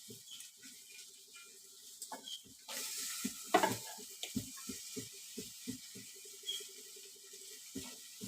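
Crab pieces coated in masala fry softly in a pan for a home-style crab gravy, with a spatula stirring in a series of light, rhythmic scrapes and taps over a low sizzle.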